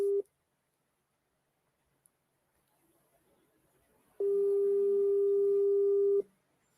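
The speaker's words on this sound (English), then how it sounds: "your phone is even ringing and you're not picking" A telephone tone sounds on a phone call that goes unanswered, a short steady beep at the start and then a longer, steady electronic tone of about two seconds after a quiet gap.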